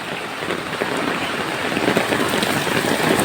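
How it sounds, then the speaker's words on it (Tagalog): Heavy rain in Manila pours down before dawn in a dense, steady roar that builds slightly, with drops drumming on a surface and no voices. "Grabe, malakas lalo ang ulan"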